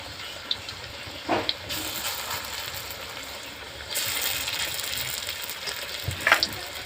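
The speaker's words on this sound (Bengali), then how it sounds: "এভাবে করে সবগুলো আমি নাস্তাগুলো দিয়ে দেবো তেলের মধ্যে" Raw potato snacks fry in hot oil with a continuous close hiss and bubbling, swelling louder partway through, with a few faint clinks of utensils.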